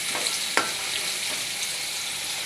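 Potatoes frying lightly in a pan give a steady, even sizzle with a couple of brief clinks from stirring, close and continuous, with no talk.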